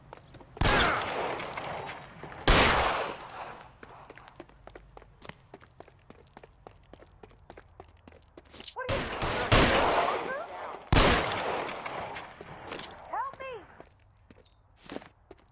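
Gunfire erupts in L.A. Noire, several loud, sharp shots spaced across the scene with quicker bursts in between, mixed with running footsteps and occasional voices.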